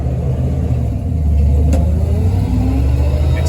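A 1961 Chevy camper truck with a granny four-speed pulls away in second gear, its engine giving a steady, close, low rumble that swells slightly as it accelerates.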